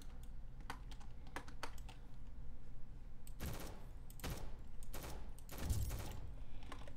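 Rapid full-auto gunfire in the Roblox game Rolling Thunder, short bursts of sharp cracks repeating quickly, mixed with faint clicking and soft ambient noise and no talking.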